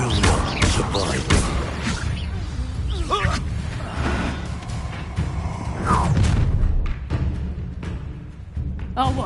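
The Incendio fire spell cast in Hogwarts Legacy, heard as fiery whooshes and heavy booming impacts scattered through a battle, with voices speaking over much of it.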